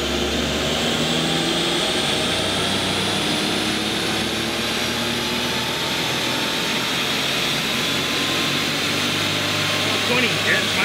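Worn Daihatsu Mira kei car with a small three-cylinder engine on a dyno power run, its loud steady drone rising in pitch throughout, close and continuous, with voices talking over it.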